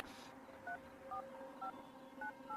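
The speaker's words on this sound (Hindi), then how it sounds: "या तू फोन लगाएगा ठीक है प्लीज?" Touch-tone telephone keypad dialing in a Hindi-dubbed South Indian film: four short, clear beeps spaced evenly at a steady rhythm over a faint background hiss, with no voices.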